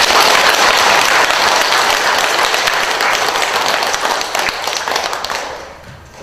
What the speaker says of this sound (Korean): 우리 큰 박수 한번 하십시오.